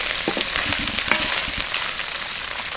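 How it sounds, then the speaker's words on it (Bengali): Thick, large pieces of dried fish fry in oil with a loud, close, continuous sizzle, punctuated by crackles and light stirring scrapes. "এ দেখুন আমি তেল দিয়ে ভেজে নিচ্ছি।"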